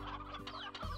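Chickens clucking in the video game Slime Rancher, a quick burst of several close clucks and squawks over a steady game background hum.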